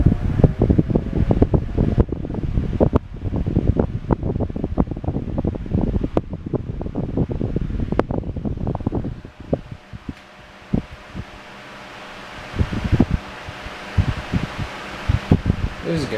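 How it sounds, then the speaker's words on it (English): A Lasko Air King 4150 12-inch table fan, which has a different motor from most Lasko fans, starts up and runs. Close, gusty whooshing airflow buffets and rustles against the microphone, with a slight lull near the end. "Apparently these have a different motor than most Lasko fans, so it sounds a bit different, and it actually kind of has a startup sound."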